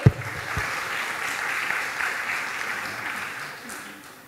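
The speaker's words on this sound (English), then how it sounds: "Give applause to the opening for today." Steady applause from a conference audience greeting the opening of an international conference on applied science for vocational education, a broad even wash of clapping that holds for several seconds before easing slightly.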